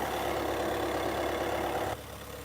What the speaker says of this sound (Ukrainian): Ну що, двигун працює абсолютно